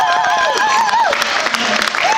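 Crowd at an indoor cricket match between UAE Colts and England Colts applauding a run out, a steady wash of clapping and cheering mixed with tonal crowd noise for a couple of seconds.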